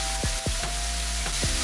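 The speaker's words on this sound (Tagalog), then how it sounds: "ay prito na natin ang chicken thighs" Chicken frying in hot oil sizzles steadily, with a low electrical hum and a few sharp thumps as pieces shift in the pan.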